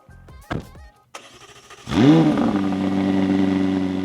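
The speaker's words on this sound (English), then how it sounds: "Let's start her up." A McLaren 750S sports car with a titanium sports exhaust cranks with a couple of short starter bursts, then catches and roars loudly into a strong, steady idle.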